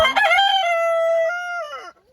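A single rooster crows loudly and close by, one long drawn-out call that holds steady before trailing off.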